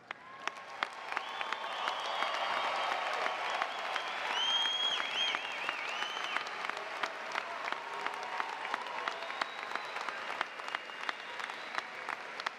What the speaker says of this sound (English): please rise for a round of applause?